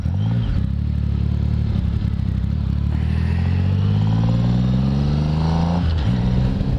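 A Triumph Rocket motorcycle rumbles loud and bass-heavy while being ridden, with its engine pitch rising and falling through several gear changes over steady wind noise.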